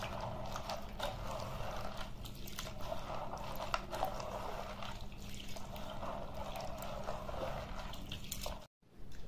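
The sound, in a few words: washing lentils (dal) with water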